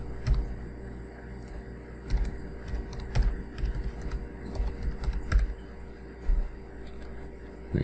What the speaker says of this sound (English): now I've got to type it in.